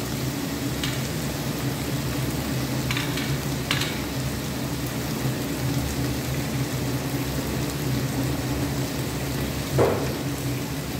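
Spiced water poured into a hot pan with green chillies while cooking a prawn curry with potatoes and pumpkin sizzles continuously, a dense steady crackle with a few brief sharper spits and a small clatter near the end, no voices.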